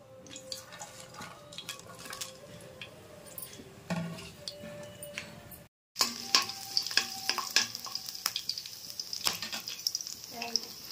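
Garlic, cloves, cinnamon and bay leaf fry in hot oil for a mutton curry, giving a crackling sizzle broken up by stirring clinks and scrapes. Partway through there is a brief silence, then the sizzle comes back brighter and louder.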